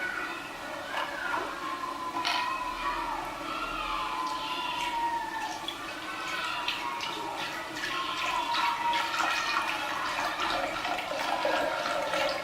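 About 950 milliliters of milk for Turkish sütlaç rice pudding is poured into a pot in a steady, gurgling liquid stream lasting over ten seconds, close and even in level.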